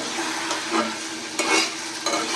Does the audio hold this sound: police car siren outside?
no